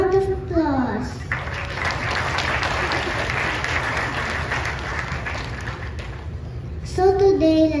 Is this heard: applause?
yes